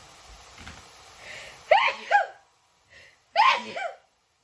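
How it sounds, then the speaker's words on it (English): Two sharp, close sneezes a second or so apart, each with a quick intake of breath before, then silence. "I have to sneeze again"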